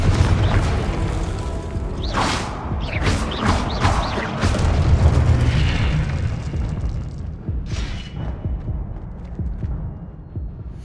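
Fiery Confringo blast spell cast in Hogwarts Legacy, a string of heavy booming impacts and crackling bursts over a rumbling low bed, loud and close, with short whooshing flares between hits.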